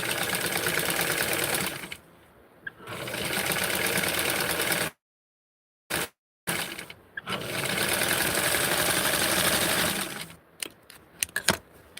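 A sewing machine stitches a Barbie doll garment from a Vogue 7291 pattern, running in steady fast bursts with short pauses and a brief stop in the middle, close and clear with no talking.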